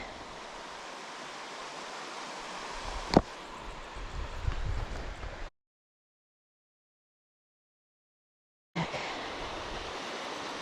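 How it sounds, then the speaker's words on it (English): A mountain river in a valley near Lake Como rushes steadily nearby, a constant broadband babble that cuts out to silence midway before resuming. "We've been following the river that's coming down the valley, which is a nice sound."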